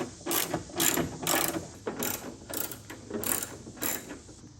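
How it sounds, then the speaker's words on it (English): Socket ratchet with an extension, 10 mm socket, undoing bolts on a Subaru WRX wing: six or seven close bursts of rapid clicking, each about half a second, separated by short pauses, loud and alone. "take our socket with the extendo on here"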